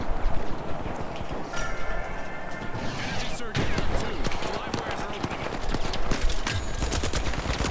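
Rapid gunfire bursts from weapons in The Finals video game, dense automatic shots and impacts close and loud over busy game noise, with a brief tonal sound midway.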